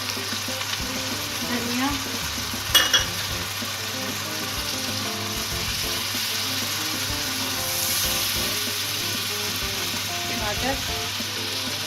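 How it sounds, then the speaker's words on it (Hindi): Spices and tomatoes frying in a pan for a khatti baingan (sour eggplant) dish, a steady broad sizzle lasting throughout with occasional stirring clinks, while someone talks over the cooking. "ये टमाटर गल जाने तक इसको भूनना है अच्छी तरह"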